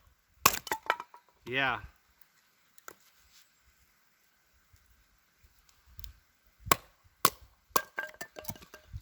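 An Estwing tomahawk is batoned with a steel bar to split campsite firewood, giving a few sharp cracks and knocks with quiet gaps between and one short spoken word.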